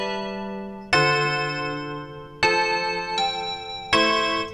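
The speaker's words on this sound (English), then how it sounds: "So I just copied my existing melody down to my bells," Bell melody played with the Arcade plugin by Output in FL Studio, bright chiming notes struck one at a time in a slow, spaced pattern, each ringing out and fading before the next, alone and fairly loud.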